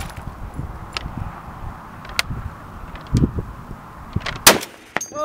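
Barrett rifle fired at an outdoor shooting range in Las Vegas toward a dirt wall: a handful of sharp, heavy bangs spaced irregularly a second or so apart, each with a booming tail over outdoor background noise.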